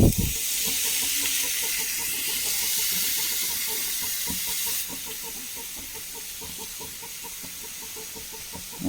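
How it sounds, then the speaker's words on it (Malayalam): Fish fries without oil in a non-stick pan, giving a loud, continuous sizzling hiss that drops slightly in volume partway through and then carries on steadily. "ചട്ടിയിൽ മീൻ വെച്ച് കൊടുക്കാം"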